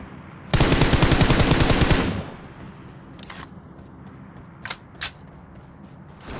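Automatic gunfire from a BGMI (PUBG Mobile) match, with one loud sustained burst of rapid shots early on, followed by a few fainter isolated pops and clicks over quiet game ambience.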